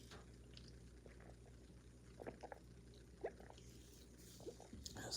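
Water pours quietly in short, uneven trickles and splashes, faint and close by in a calm room, with no voices.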